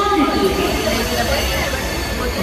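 The Wodeyar Express, train number 12614, runs between Bengaluru and Mysore with a continuous rolling rumble and hiss heard from inside a carriage, steady throughout, with a voice and background chatter over it.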